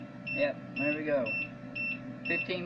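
Edecoa 1500 watt power inverter sounding its low-voltage alarm, a series of short, evenly spaced high beeps repeating about every half second, moderately loud, with a person talking over it.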